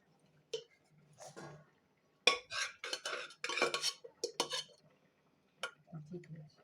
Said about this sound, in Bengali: এবার আমি এটা থালায় ঢেলে নিচ্ছি।